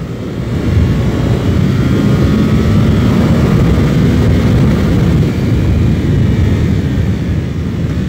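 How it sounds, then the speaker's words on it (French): A 2024 Suzuki GSX-8R motorcycle ridden on a flying lap of the Monteblanco circuit near Seville, its engine a loud, continuous close roar with slight pitch shifts and wind rush, no talking. "Suzuki nous a fait rouler sa 8R sur le circuit de Monteblanco, près de Séville. Et je vous embarque pour un tour lancé."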